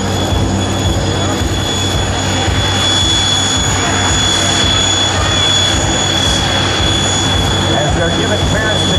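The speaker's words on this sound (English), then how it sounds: "The Geico Sky Typers represent runway right now are the same type flown by the United States Navy's Flight Demonstration Squadron" Several GEICO Skytypers aircraft, the same type flown by the Navy's Blue Angels, idle loudly on the runway at a military air show, a steady dense engine roar with whining tones that continues for the whole stretch.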